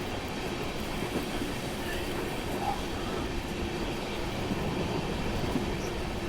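A train runs steadily along the Khandwa line on a Mysuru to Varanasi journey, with a continuous loud rumble of wheels on rails and faint clatter throughout, no voices.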